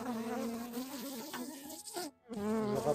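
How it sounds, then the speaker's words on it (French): A honeybee buzzing right against the microphone beside a beehive frame, a close, loud wavering drone that cuts out briefly and returns. "je pense que j'ai l'abeille qui discute au micro"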